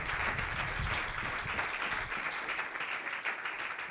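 A church congregation claps together in a sustained, even burst of applause lasting several seconds, steady and moderately loud with no break.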